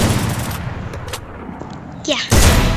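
Gunfire in the mobile shooter game Free Fire Max during a close-range fight, with a loud burst of shots at the start and another sharp, heavy shot near the end, separated by quieter game sounds.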